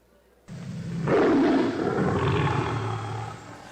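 A lion roar sound effect played during a church sermon: a deep, loud, sustained growling roar begins abruptly after a short quiet lead-in and rumbles on steadily, strongest in the middle, with no talk over it.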